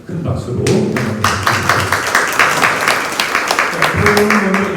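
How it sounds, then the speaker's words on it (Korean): Audience applause welcoming two panelists at a Korean-language public debate forum, a dense burst of clapping from a full room that starts sharply and carries on steadily, with a voice briefly over it at the start and end. "큰 박수로 환영드립니다."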